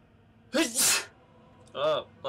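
A sneeze bursts out alongside a video game session, a sharp two-part explosive burst, followed by a short voiced reaction and a brief noise at the end.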